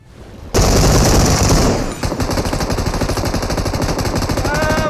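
Sustained automatic gunfire in the mobile battle royale game PUBG Mobile, a loud continuous burst that briefly dips and then carries on as rapid, steady rattling shots.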